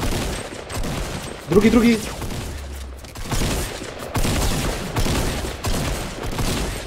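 Gunfire in a Fortnite-style video game comes as rapid bursts of shots, nearby and loud, stretched across the whole stretch with short gaps, while a player briefly speaks over it.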